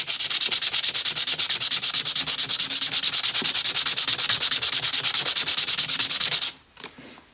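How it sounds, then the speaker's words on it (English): A folded sanding disc, worked by hand, scrapes rust off an axe head in fast, rhythmic back-and-forth strokes, loud and close, stopping abruptly near the end, with no talking. "I just fold it like this and it works. So what you want to do is you just want to scrape"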